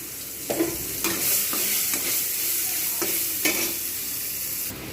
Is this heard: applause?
no